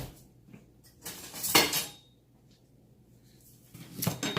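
A knife clinking against dishes while frozen butter is handled, two short metallic clatters about two seconds apart over a quiet room, with no talking.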